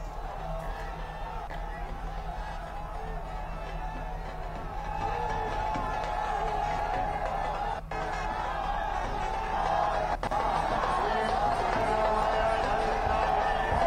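A crowd lines both sides of the road at PM Narendra Modi's road show in Dausa, giving a sustained roar of cheering and chanting that swells slightly midway, with someone talking over it.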